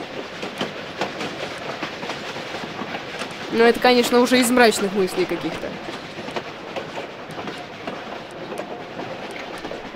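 A train rolls past in the video game Tomb Raider: The Last Revelation, on a road level near Alexandria, with a continuous rumble and a louder clattering burst midway while someone talks over it.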